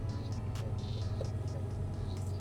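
A budget Honda Civic's engine runs while driving to a gas station, giving a steady, low, droning hum with a faint rattle and hiss on top, continuous throughout.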